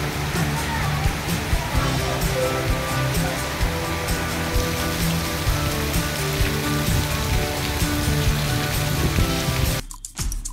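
Heavy pre-monsoon rain pours down at a bus station in Maharashtra in a dense, continuous hiss and patter that stays loud throughout before cutting off abruptly.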